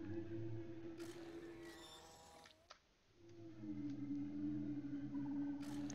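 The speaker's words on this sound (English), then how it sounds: "We sound like a whale" A creature's call in the video game Creatures of Sonaria, a loud, sustained, whale-like moaning with layered tones that briefly drops away midway, then swells back in.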